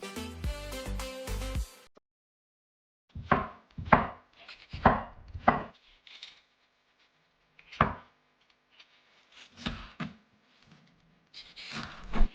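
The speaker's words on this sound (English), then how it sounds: "chop as well your onion, not too small, not too thick" A knife chops an onion on a board for a chickpea salad, with crisp, close, uneven strikes spaced out by pauses. A dense burst of other sound comes before the chopping starts.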